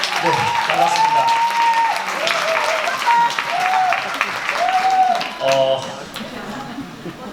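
A large lecture-hall audience of around three hundred claps and cheers as a Korean speaker takes the stage, the dense clapping holding steady before thinning toward the end, with scattered voices mixed in.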